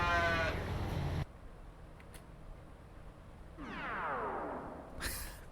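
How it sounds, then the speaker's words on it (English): A pitched, processed animal moo or bleat serves as a transitional sound effect, with a harmonic burst at the start and a later falling, pitch-swept cry, separated by near silence. "And then I also used a cow as a transitional sound effect."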